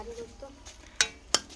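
Chicken cooking in a pot after tempering and salt are added, with a soft sizzle, light stirring and two sharp metallic clinks of utensil on pot, fairly quiet.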